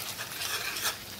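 Cornflour paste being stirred into paneer chilli in a pan, a brief close rasping scrape of a spoon moving through the thick sauce.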